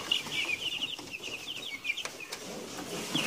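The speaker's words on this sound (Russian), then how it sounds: "Вот такие цыпляточки." Many small Ross 308 broiler chicks peep and cheep continuously in high, soft chirps, a busy chorus heard up close with faint rustling beneath.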